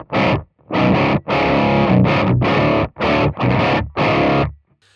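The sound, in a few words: electric guitar through amp sim clean channel, dry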